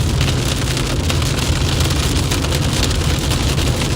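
Heavy rain and hail drum steadily on a car driving through a hail core during a storm chase inside a large storm complex in Canada, a loud, dense, continuous pelting with no voices.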